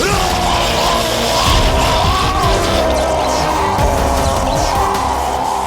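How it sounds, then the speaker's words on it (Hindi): Screams and yells from a dramatic scene in a Hindi series, loud and continuous, with crashing impacts and a dense wash of music and effects beneath. "ये चीखें सुनाई दे रही हैं।"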